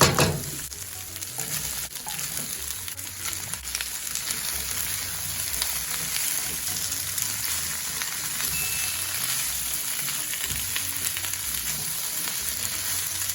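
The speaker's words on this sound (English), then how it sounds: "I'll add in my peppers and broccoli and cauliflower, and I'll cook everything together for about a minute." Peppers, broccoli and cauliflower cook together in a pan with a steady, dense sizzle and crackle that holds evenly throughout, close and fairly loud, with no voices.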